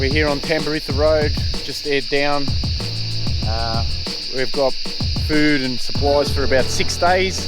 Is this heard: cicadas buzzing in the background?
yes